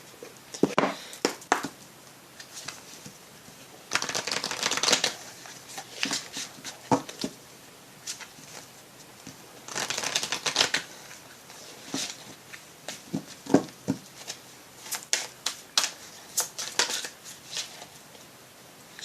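A deck of oracle cards is shuffled in irregular bursts of papery riffling and flicking, with short pauses and soft taps between shuffles, close and fairly quiet.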